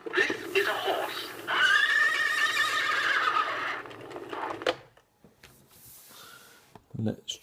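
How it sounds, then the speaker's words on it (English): A 1989 Mattel See 'n Say toy plays a recorded horse neigh, a long, loud whinny heard up close that lasts several seconds and fades out. A few mechanical clicks from the toy follow in quieter moments. "This is a horse."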